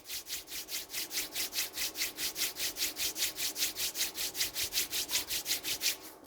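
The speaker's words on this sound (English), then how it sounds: "Rub your palm." Two palms rub briskly together during a yoga relaxation exercise, giving a steady back-and-forth swishing about three strokes per second, close and even, with no talking.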